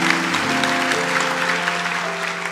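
Church congregation clapping during a sermon, a steady wash of applause over sustained organ or keyboard chords that continue underneath throughout.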